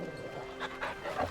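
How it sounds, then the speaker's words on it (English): Dog in a Final Fantasy XVI story playthrough making short barks and whimpers, a few brief yips spread across a moment of game audio with faint background music. "Pet the dog."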